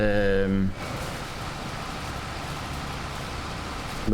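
Steady broadband rain hiss falls in Farming Simulator 25, an even wash of rainfall that continues unbroken after a short burst of voice at the start.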